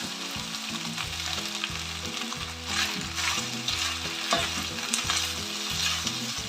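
Beef fries in a pan for chilli beef, a constant close sizzle with scraping stirs, while a steady stepped tonal pattern, like background music, runs underneath throughout.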